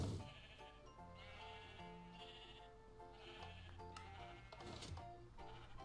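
Sheep in the video game Minecraft bleat repeatedly in loud, nasal, wavering calls that overlap one another in a continuous stream with no pauses.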